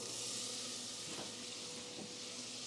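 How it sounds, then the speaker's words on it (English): Butter sizzling and hissing as it melts in a pan while a roux is started, a steady close frying sizzle from start to finish with a couple of faint stirring scrapes and no talking. "All right, in goes our butter."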